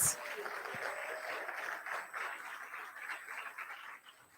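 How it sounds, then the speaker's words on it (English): A World No Tobacco Day audience claps and applauds, a broad, fairly faint wash of hand clapping from a distance that carries on for a few seconds and tapers off. "I'm going to need far more of an applause than that."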